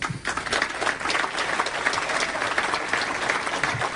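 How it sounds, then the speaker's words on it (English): Studio audience applause on a radio talk show: sustained dense clapping from many hands, loud and even throughout, with faint crowd murmur mixed in. "I told Cookie to cut the applause there"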